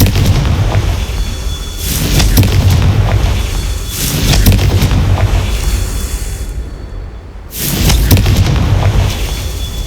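In Hogwarts Legacy, a Confringo fire spell explodes in repeated loud booming blasts, about every two to three seconds, over a constant deep rumble with no talking.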